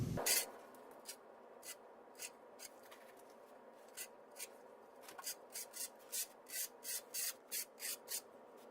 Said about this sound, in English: Here I'm using a 1/4 of an inch trowel just to spread it nicely.